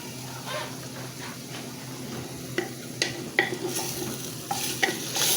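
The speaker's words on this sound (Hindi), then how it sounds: "और गोश्त को हम फ्राई करेंगे।" Mutton frying over a medium flame in a pan, a steady sizzle with a spoon stirring and scraping, plus sharp clinks of metal against the pan that grow more frequent toward the end.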